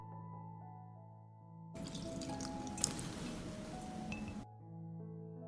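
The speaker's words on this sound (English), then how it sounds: "I will water directly around the roots," Water poured directly around the roots of garden plants, a soft steady trickle and splash lasting a few seconds between quieter stretches of low background hum.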